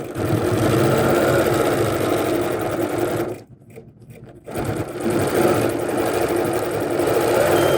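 A sewing machine stitches a fabric strip in a fast, steady mechanical chatter, pausing briefly midway before resuming at the same close, even pace.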